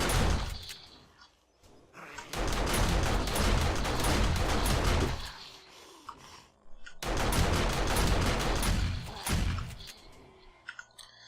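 An automated turret in the game 7 Days to Die (Alpha 16) fires at feral zombies in two long, dense bursts of rapid gunfire, loud and close, separated by a brief lull.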